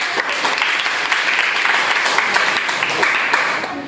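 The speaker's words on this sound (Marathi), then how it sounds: "ह्या दादासाठी सगळ्यांनी टाळ्या." An audience at a school quiz applauding a student, a dense burst of many hands clapping together, loud and steady for a few seconds before tapering off.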